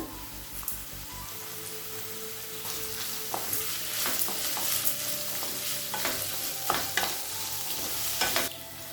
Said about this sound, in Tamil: வெங்காயத்தை ரொம்ப வதக்க தேவையில்லைங்க, லேசாக வதக்கினா போதும்